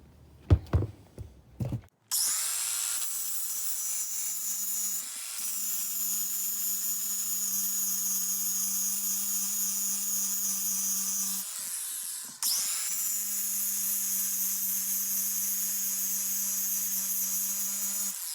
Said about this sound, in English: This flapper wheel will take that off